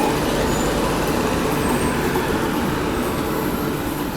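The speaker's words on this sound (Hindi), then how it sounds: "ये निकल गया आप लोगों के न्यू दिल्ली डिब्रूगढ़ टाउन राजधानी एक्सप्रेस दोस्तों" The New Delhi–Dibrugarh Town Rajdhani Express passes close by, a steady loud broadband rumble of wheels and carriages that holds evenly throughout without break.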